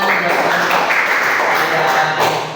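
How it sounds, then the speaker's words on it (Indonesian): A classroom of students gives a short round of applause, a thick, even patter of hands that fades slightly at the end. "Tepuk tangan."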